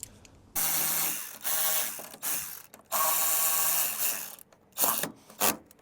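Ratcheting tool clicking away in several bursts as screws are fastened on the bonnet lock of a crashed Mercedes CLA under repair, loud and close.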